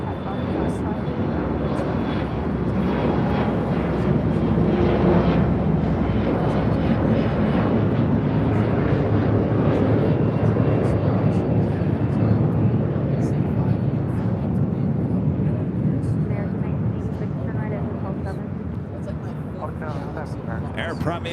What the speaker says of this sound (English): Air Premier Dreamliner now making the left-hand turn onto Bravo